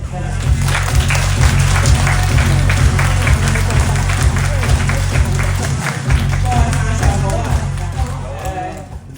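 Warm applause from an audience welcoming a member to the stage at a health testimonial event, dense steady clapping that fills the room for about nine seconds with crowd murmur and a strong low hum underneath.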